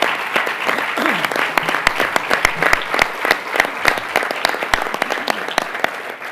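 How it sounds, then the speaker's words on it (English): A crowd at a state government water-quality announcement at Stony Brook gives lively applause, with sharp individual claps popping close over a dense clapping bed and a few brief cheers mixed in. "let's have a round of applause for Stony Brook"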